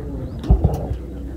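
Pigeons cooing nearby in a couple of soft, low throaty bursts over a faint steady background hum, with no talking.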